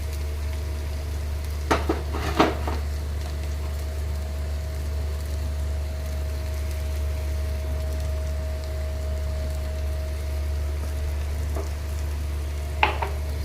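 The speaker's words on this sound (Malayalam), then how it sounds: "ഉള്ളി ചെറുതായി ഒന്ന് വാടി, അപ്പോൾ ഈ പച്ചമുളക് ഇട്ട് കൊടുക്കും." Onion and green chilli sauté in a pan for soybean bhujia, a steady soft sizzle with a low constant hum beneath, broken by a few sharp clinks of a spoon against the pan.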